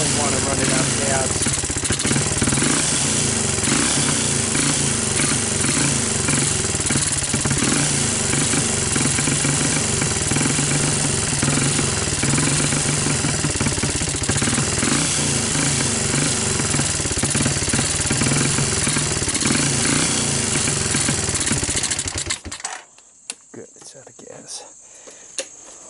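Honda TRX200SX ATV engine idling rich with the choke on, a loud steady close putter running continuously for over twenty seconds before cutting out abruptly, leaving quiet handling noise.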